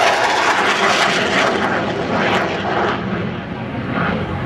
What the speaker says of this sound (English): Now that's the way to arrive at an air show. You definitely know Jamie Norris is here, and there's a Typhoon.